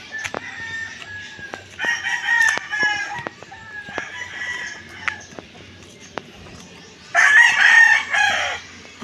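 Roosters crowing in a rural yard, two long harsh crows rising above a quieter backdrop of clucks and small clicking sounds, the second crow louder and closer.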